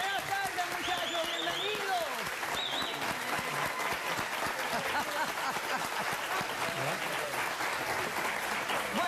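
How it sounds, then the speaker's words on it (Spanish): A studio audience at a television courtroom show applauds steadily with sustained clapping, and a few cheers and whistles rise over it near the start. "¡Vamos a darle un aplauso"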